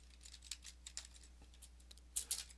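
Computer keyboard typing a systemctl command: several scattered light clicking keystrokes, with a short burst near the end, quiet over a low steady hum.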